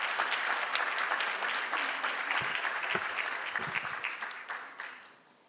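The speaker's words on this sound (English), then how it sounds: "Can we give them another round of applause?" An audience gives a round of applause for student volunteers at an anniversary and mental health symposium, dense steady clapping that thins and fades toward the end.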